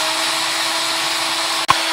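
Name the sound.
drilling a hole with a power drill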